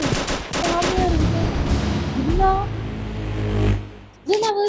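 Gunfire from a video game: rapid shots crackle in a burst at the start, followed by more scattered gunfire, with someone talking over much of it and a short pause near the end.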